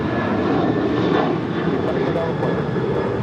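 An airliner takes off from runway 25 right at LAX, its engines roaring in a loud steady broadband rumble through the whole stretch, with no break in the sound.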